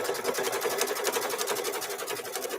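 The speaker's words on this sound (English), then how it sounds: "now it's doing a placement stitch of where I'm going to put that first piece of fabric here" Embroidery-style sewing machine running a placement stitch on fabric and batting, a fast, even needle chatter pulsing steadily throughout, close up and alone.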